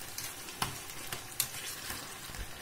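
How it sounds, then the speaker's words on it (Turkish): Onions frying in oil in a home kitchen make a continuous crackling sizzle with occasional sharper pops and stirring clicks, close and steady, with no talking. "Bunu da öyle ayrı kavuruyorum. Soğanla yağına."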